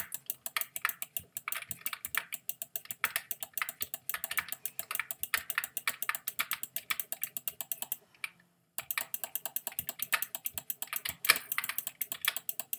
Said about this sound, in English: I'm sorry if there's a lot of clicking.